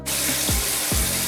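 Steady, loud rush of tap water running into a sink while an armpit is washed at home, close and continuous with no talking.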